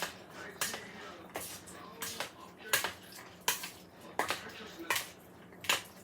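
A spoon mixes three bean salad in a bowl, giving a steady series of sharp clinks against the dish with soft wet stirring between them, close and fairly quiet.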